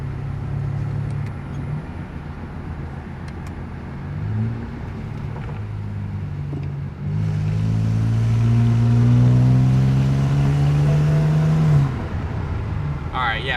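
A BMW 335i with a boost leak accelerates into light boost in third gear. Its engine drone hums steadily, then rises smoothly in pitch and loudness before easing off. Tire and road noise run underneath, and a voice may be heard.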